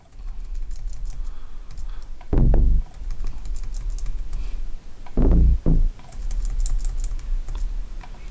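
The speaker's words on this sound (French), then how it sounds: "J'appuie sur D de mon clavier pour la dupliquer." Computer keyboard keys are pressed while working in the Studio One music software: a few sharp, heavy clicks, one alone and then a close pair, stand out over a steady background hiss.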